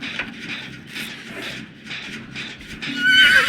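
A horse neighs in the video game Dead by Daylight, a loud, drawn-out whinny that rises toward the end, with no talk over it.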